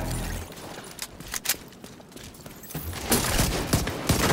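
Gunfire in The Division 2 during online combat: bursts of shots and a short volley crack out, mid-distance and fairly loud, among scattered game noise.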